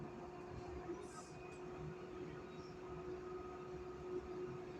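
A Cologne Stadtbahn tram runs through an underground tunnel, giving a steady rumble of wheels on rail with a droning hum and a brief high squeal, close and continuous throughout.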